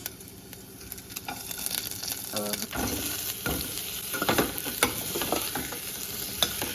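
Peppercorns and slit red and green chilies sizzle steadily in an oil-filled pan alongside mushroom and broccoli, with continuous frying hiss and scraping stirs of a spatula close by.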